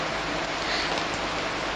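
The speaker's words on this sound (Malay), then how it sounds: "Kemanalah hendak dituju dalam hujan ribut begini?" Heavy stormy rain pours steadily in a 1970 Malay film scene, a dense, constant hiss that holds at the same loud level throughout with no pauses, alone and without voices.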